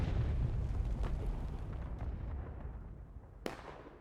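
An artillery battery fires during a War of Rights battle at Hagerstown Turnpike: a heavy booming blast opens, then a long rolling rumble fades as distant shots crack, with one sharp report near the end.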